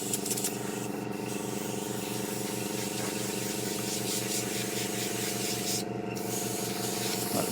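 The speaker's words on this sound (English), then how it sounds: "if I put the compressor on." A small air compressor running steadily beside a modeller's bench while building a Takom 1/35 British Chieftain Mk 10 tank kit; a constant close pulsing motor drone with faint hiss throughout, no speech.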